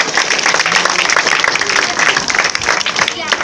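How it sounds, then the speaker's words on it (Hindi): A crowd claps loudly and continuously for the unit at the launch ceremony of the first Chhattisgarhi biopic film, dense applause with no pauses and cheering voices mixed in. "तो एक बार जोरदार पूरा यूनिट के लिए ताली।"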